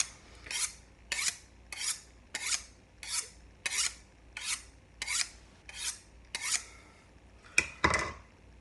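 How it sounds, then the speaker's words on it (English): A kitchen knife is sharpened before prepping pork, giving about a dozen evenly paced, bright scraping strokes, each a short rasp roughly every half second, close and clear, ending with a couple of quicker strokes and no talking. "I always give a little sharpening to my knives"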